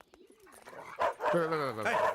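Dogs bark and whimper in a Telugu comedy film scene, with yelping, whining rises followed by a louder run of close barking that fills the latter half of the short stretch.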